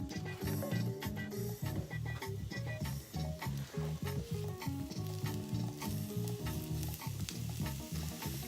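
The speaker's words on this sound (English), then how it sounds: "first we're going to saute up our mushrooms and onions" Mushrooms and onions sauté in a pan over medium heat, giving a loud, continuous sizzle with frequent stirring and scraping scrapes throughout.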